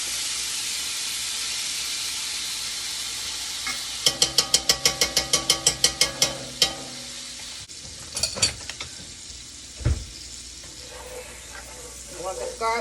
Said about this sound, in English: I've started melting my butter